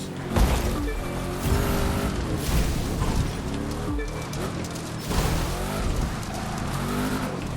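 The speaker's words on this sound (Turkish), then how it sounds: "Bir daha gaz köklüyoruz. Nitro köklüyoruz." Racing car engine in The Crew 2 revving hard and surging as nitro kicks in, a loud continuous roar rising and falling in pitch through repeated accelerations.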